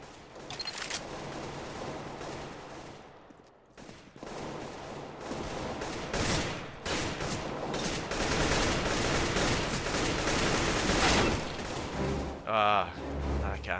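Video game gunfire on a Teclast X98 Plus tablet: rapid bursts of shots and clatter throughout, loud and continuous, with someone speaking intermittently.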